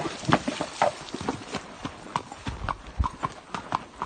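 A horse on a trail ride, heard from the saddle, walks with a steady, close clip-clop of hooves heading out toward water, a soft snort among the footfalls.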